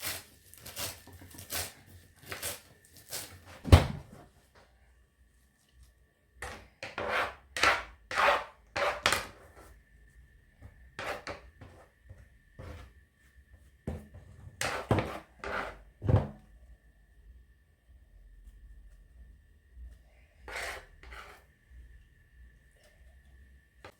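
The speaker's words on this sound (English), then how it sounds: "I'm going to chop the coriander and add it to the kofta mixture as well." Coriander being chopped with a knife on a board for chicken kofta, with sharp irregular thuds coming in quick clusters and short pauses, close and fairly quiet, no talking.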